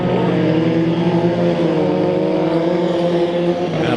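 Race cars in a dirt-track heat race at Bakersfield Speedway, engines roaring steadily and loud throughout, with layered droning harmonics from several cars running close together.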